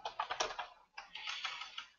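Quick, light keystrokes on a computer keyboard patter in two short bursts with a brief pause between, fairly quiet and close, with no talking.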